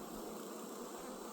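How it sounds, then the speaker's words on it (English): Honeybees hum steadily at a strong, well-populated hive late in the morning, a dense continuous drone of many wings held close and even throughout with no voices. "Strong hive, plenty of bees, especially for the time of day it is."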